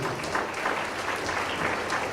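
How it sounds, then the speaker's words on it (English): An audience at the MSA Awards 2017 ceremony gives a continuous round of applause as champions leave the stage, with steady, moderately distant clapping and no talk over it. "Big round of applause as you guys make your way off stage."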